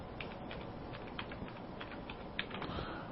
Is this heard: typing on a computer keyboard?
yes